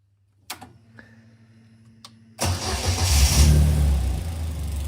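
A Caterham race car with bypassed electrics being prepared for racing cranks briefly, then its engine fires up and revs loudly, settling into a rough, throaty run close by.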